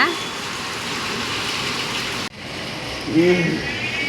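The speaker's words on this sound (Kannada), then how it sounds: "ಸ್ವಲ್ಪ ಮಳೆ ಇಷ್ಟು ಹೊಡಿತೈತೆ ಅಂಗಡಿ ಹತ್ರ" Rain falls near a roadside shop in Madhugiri as a steady broadband wash that cuts off abruptly midway, followed by quieter ambience and a brief low sound.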